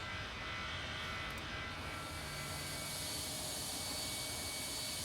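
A jet airliner takes off in the Tower Simulator 3 air traffic control game at Detroit airport, a steady loud engine roar with a broadband hiss that holds for the whole stretch, with no talk.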